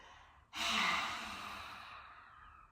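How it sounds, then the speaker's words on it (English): A breath pushed out hard through a wide-open mouth, a sudden breathy hiss that starts loud and fades slowly over about two seconds, heard alone and close. "open my mouth really wide to begin with and let the breath out like a hiss"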